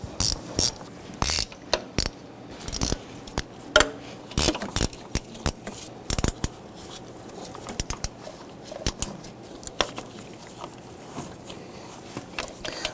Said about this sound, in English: you want to go ahead and loosen a series of these bolts across the top of the intake manifold